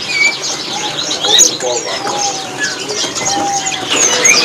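Many caged birds chirp and tweet at a bird kiosk, a busy overlapping chorus of high calls with some low cooing, steady throughout, while people talk nearby.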